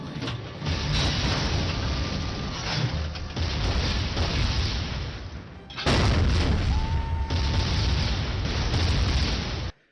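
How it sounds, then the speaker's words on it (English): A fortress blows apart in the video game Maximo, a sustained, loud rumbling roar of explosions with a renewed surge partway through, dense and continuous for the whole stretch. "The place is exploding, so we have to leave"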